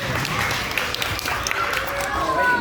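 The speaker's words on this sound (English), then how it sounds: "Round of applause for my brave volunteers." Audience applause for volunteers at a science center show, a short dense patter of clapping from a crowd, moderately loud, with voices mixed in.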